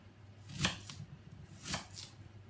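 Knife chopping an onion on a board, two soft, close thuds about a second apart, with faint scraping between them in a quiet kitchen.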